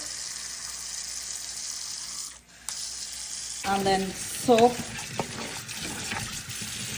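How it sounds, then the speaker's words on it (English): Water is poured over raw duck meat soaking in white vinegar for a spicy Kerala-style duck roast: a steady splashing, sizzling-like pour runs under a woman's brief speech, rising near the end. "Also pour a little bit of water."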